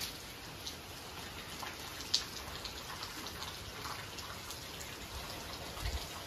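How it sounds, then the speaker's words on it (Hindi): Steady rain falls throughout, a continuous hiss of drops pattering on surfaces with one brief louder tap midway, no voices. "वर्षा पड़े"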